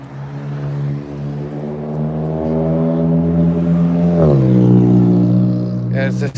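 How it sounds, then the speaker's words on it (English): A car engine droning and revving with a steady low tone that climbs and then drops sharply, loud and close throughout. "Yeah, it's a silly sounding car"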